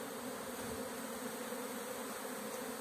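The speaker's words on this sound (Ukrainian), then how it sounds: "одні бджоли роблять такі оглядові обльоти, а другі вилітають і йдуть по роботі собі" A dense, steady buzz of many honey bees flying around their hive close by, making orientation flights, continuous and unbroken throughout.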